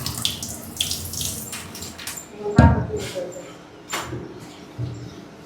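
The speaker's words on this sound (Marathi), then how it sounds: "आता आपण हे पाणी टाकून द्यायला याच्यामध्ये." Water being poured out, a close splash and gurgle that rises sharply midway and trails off, with a voice talking over it.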